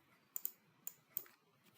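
Several light, crisp clicks of number keys being typed on a computer keyboard, close and quiet, in a short irregular burst with near silence between strokes.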